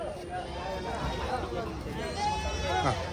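Goats bleat repeatedly at Tamil Nadu's largest goat market, several overlapping calls near and far amid a busy crowd, with people talking over the animals throughout.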